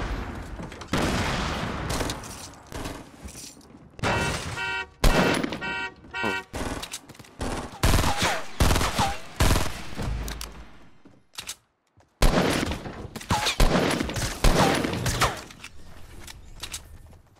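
Rapid bursts of gunfire in the Fortnite video game, crackling volleys with short breaks and a brief silent gap partway through, loud and dense with no talking.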